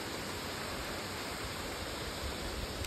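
A village river, the Maubheri stream, rushing steadily with an even, broad hiss of flowing water, continuous and moderately close, no voices.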